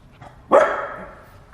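A four-month-old puppy gives a single sharp, loud bark close by, followed by a short fading tail against a quiet background.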